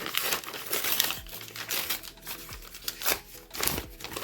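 A popcorn bag is cut open and handled up close, giving a quiet run of crisp, irregular paper crinkles and rustles with short snips between them.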